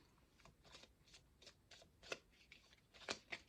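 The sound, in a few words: shuffling cards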